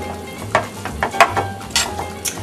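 Salmon pasta with bacon sizzles in a pan as it is folded and stirred, a soft steady crackle broken by brief scraping clinks of the utensil against the pan.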